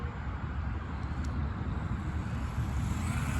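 A WLtoys RC car running a 9000 kV motor on a 2S LiPo accelerates with a steady, moderately loud whirring drone that holds without pause, with no voices over it.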